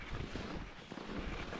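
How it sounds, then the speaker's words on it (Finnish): Wind blowing across an open bog in winter while skiing, a steady broadband rush buffeting the microphone, continuous and fairly faint, with no voices. "Tietenkin kun avosuolla on, niin tuuleehan se tuolta selän takkaa"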